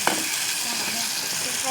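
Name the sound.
sautéing onion and tomato in oil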